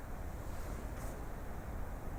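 Faint, low rumbling wind buffeting outdoors, steady and soft with a brief gust in the middle.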